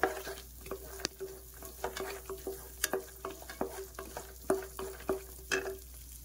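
Ingredients for bottle gourd kheer fry in ghee in a pan, with a soft sizzle under repeated sharp scrapes and clinks of a spoon stirring, close up and alone, at an irregular rhythm.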